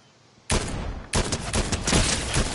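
Gunfire in a shooting video game: a loud, close burst erupts, breaks off briefly, then returns as sustained rapid fire with no pause.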